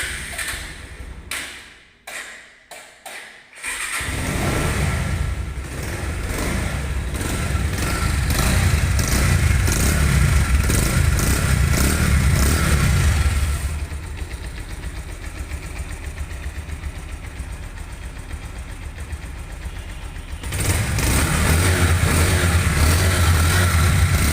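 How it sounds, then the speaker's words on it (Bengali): Engine of a 2024 Bajaj Pulsar single-disc motorcycle, in fresh condition, runs steadily close by, with a dense rumble that swells as it is revved, eases to a lower idle mid-way, then rises again toward the end, with no talk over it. "তাহলে একটু বাইকের সাউন্ড কোয়ালিটিটা দেখে আসি, বাইকের সাউন্ড কোয়ালিটিটা কেমন আছে।"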